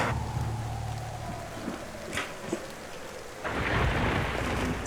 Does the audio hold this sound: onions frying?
no